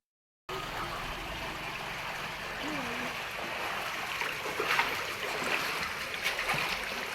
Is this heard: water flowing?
yes